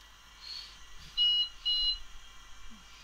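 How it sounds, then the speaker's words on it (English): A Dell Vostro 270s desktop computer emits its two-beep POST error code: two clear, evenly spaced electronic beeps in quick succession, fairly faint against a quiet room hum, with no talking. "Lots of 2 beeps."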